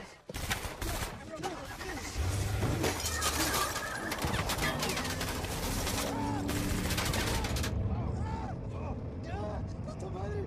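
Gunfire in an action film sounds as rapid, sharp bursts that crackle over traffic-like rumble, with speech mixed throughout the scene.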